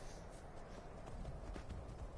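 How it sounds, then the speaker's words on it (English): Shadowmere, the horse from a fantasy role-playing game, gallops with steady, dense hoofbeats over a continuous background bed, fairly loud and without talk. "I got this horse from completing the Dark Brotherhood Assassin's Quest."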